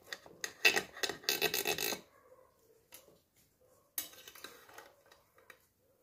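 A carrot tortilla being cut in a pan, with quick scraping and clattering utensil strokes against the pan in bursts, a near silent pause, then more scraping and tapping, all close and fairly quiet.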